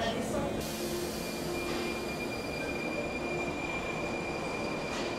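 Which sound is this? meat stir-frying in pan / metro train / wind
metro train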